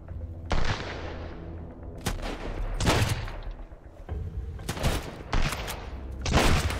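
Enemy gunfire in the survival game Sunkenland, including shotgun blasts, heard as several loud, sharp shots with decaying echoes spread unevenly across the clip and no speech.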